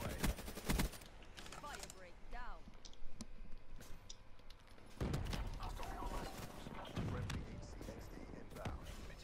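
Rapid bursts of automatic gunfire from a hard-recoiling gun in a first-person shooter video game, sharp repeated cracks in clusters, with a player talking over the shots.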